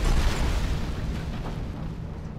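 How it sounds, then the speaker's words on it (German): A rocket launcher blast in the shooter game Alien Rage lands as a heavy, booming explosion with a deep low rumble that hits hard at the start and fades slowly. "Das ist der Raketenwerfer, das heißt nichts Gutes."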